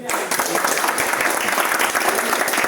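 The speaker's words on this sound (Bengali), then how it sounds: "এটার লাগে একটু জোরে হাততালি" Loud applause from a gathered crowd at an office celebration for a mobile store team, steady dense clapping filling the whole stretch.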